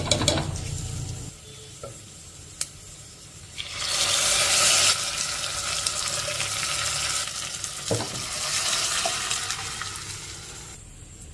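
Fenugreek leaf dal is added to a hot tempering of spices and stirred, giving a loud rush of sizzling and bubbling that swells midway, with occasional spoon scrapes against the pot; no voices.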